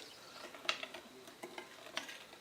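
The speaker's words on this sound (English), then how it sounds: "and give it a little stir." Sugar being stirred into a yeast mixture for pizza dough, with a few soft, light clinks and scrapes spaced apart, faint and close against a quiet background.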